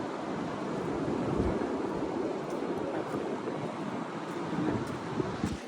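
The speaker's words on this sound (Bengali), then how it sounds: "ঢেউটা দেখো" Sea waves wash in at Bakkhali beach under gusty wind, a broad, steady roar with rumbling wind buffeting the microphone, swelling slightly in places, fairly loud and close.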